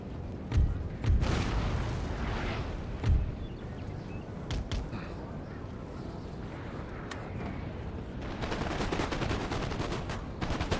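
Cannon booms and musket volleys from a Napoleon: Total War battle, with several heavy blasts early on and then a steady crackle of scattered gunfire that thickens toward the end, with faint game voices mixed in.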